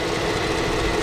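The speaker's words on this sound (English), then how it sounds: "It is a 6 3/4 liter twin turbo V8." A 2011 Bentley Mulsanne's hand-built 6.75-litre twin-turbo V8 idles under the open hood, a loud, steady, close rumble with a dense even hum and no talking.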